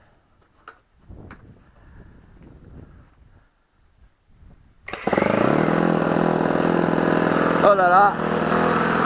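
An OS FS 70 four-stroke model engine is being restored and run in. It fires up abruptly after a few seconds of French speech and handling sounds, then runs loudly and steadily with a buzzing drone and brief revving changes.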